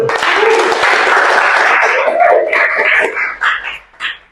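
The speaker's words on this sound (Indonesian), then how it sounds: "Oke, tepuk tangan dulu." Audience applause at a university lecturer certification teaching session, dense clapping filling the first three seconds, then thinning into scattered claps as it fades, with some voices mixed in.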